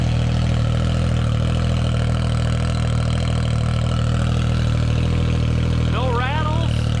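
A nitrous-powered Can-Am X3 engine runs on pump fuel, a loud, deep, steady idle with a throbbing low rumble, close by, and a voice breaks in near the end.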